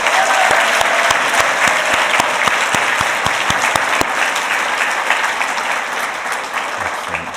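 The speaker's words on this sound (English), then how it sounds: "Let's give one more big round of applause to Selena and Keisha" A crowd applauds at an ethics awards ceremony, loud, dense clapping close by with a few sharp individual claps standing out, slowly fading toward the end.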